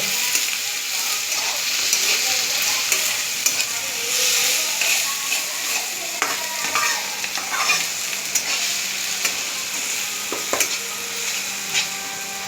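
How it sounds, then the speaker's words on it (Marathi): Tomatoes sautéing in hot oil in a pan, a constant close sizzle overlaid with repeated scraping and clinking of a spoon stirring, running steadily with no talk. "टमाटे टाकलं बघा आता हे तेलात जरा परतून घ्यायचं मस्त टमाटर"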